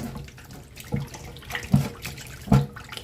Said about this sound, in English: One more quick little rinse.